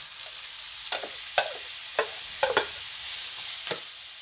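Chopped onions sauté in a hot pan while vegetables stuffed with salt cod are prepared, giving a steady soft sizzle with several sharp clicks of stirring close by and no voices.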